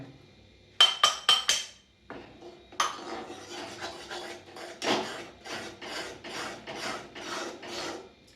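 Gram flour stirred in ghee in a pan for Mysore Pak makes rhythmic scraping and rasping strokes of a spoon against the pan, close and steady, with a quick burst of scrapes at the start and no talk.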